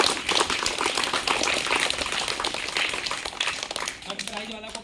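A crowd applauds a prize winner at a school prize ceremony, with dense, continuous clapping over talking voices that thins out toward the end.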